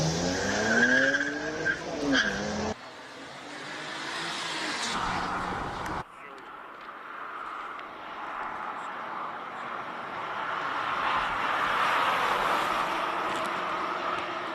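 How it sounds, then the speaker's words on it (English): A Volvo C30 T5R-design hill-climb car races up a mountain road at a speed classic event, its engine roaring loud and near, then receding, with tires squealing and shifting pitch over the run. "Little Volvo C30 all the way up the hill."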